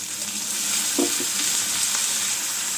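Brinjal pieces dropped into hot oil seasoned with asafoetida, a loud, continuous frying hiss with a brief splash as they land and light stirring.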